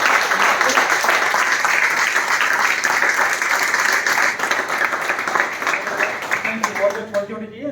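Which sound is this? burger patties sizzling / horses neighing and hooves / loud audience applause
loud audience applause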